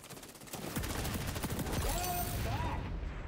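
Rapid gunfire from a shooter video game rattles in dense bursts, loud and close, with overlapping shots layered over busy game effects.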